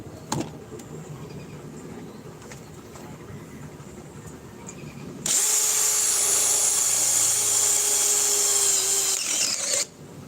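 Cordless power drill with a battery power pack whirring steadily and loudly for about four and a half seconds after a stretch of quieter background noise, then cutting off abruptly.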